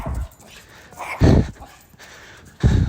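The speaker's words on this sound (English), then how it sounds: "the dog was barking at me" A dog barks in a few loud, close bursts separated by short pauses, with soft whimpering and panting noises between the barks.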